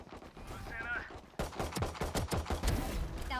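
Golden gun shots in Valorant: a quick run of crisp, loud gunshots starts partway through, sharp repeated reports over faint background game sound and some speech-like noise.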